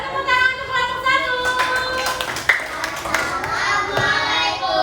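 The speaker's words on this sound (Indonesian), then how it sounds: "Boleh tepuk tangan untuk kelompok 1." Schoolchildren in an elementary civics lesson clap for a classroom group, a scattered patter of small hands up close with children's voices and talk running through it.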